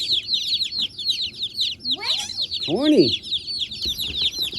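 About twenty baby chicks, shipped in winter, peeping rapidly and continuously in high, chirpy bursts, with a person speaking briefly in the middle.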